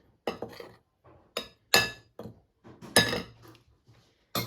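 A utensil knocks and scrapes against a bowl while cake batter is stirred, producing a series of separate clinking taps with short pauses between them, fairly close and moderately quiet.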